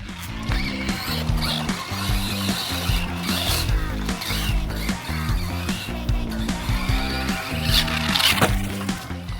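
A Hosim X07W RC truck runs across dirt, its small electric motor whining in rapid stop-start bursts, with scrabbling, crunching hits and skids as it bounces around, fairly close.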